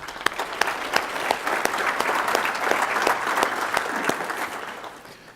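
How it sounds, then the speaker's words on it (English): Applause from an audience rewarding a group of people, a steady wash of many hands clapping at a fairly even level, with a few sharper claps standing out, heard alone. "you all should be commended and deserve a round of applause"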